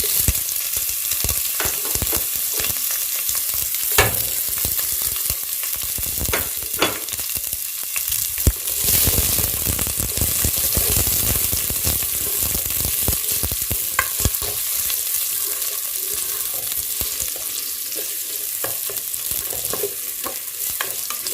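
Sweet pepper, garlic and onion frying in oil in a pot for Caribbean saltfish rice, a close steady sizzle broken by regular clacks of a stirring spoon.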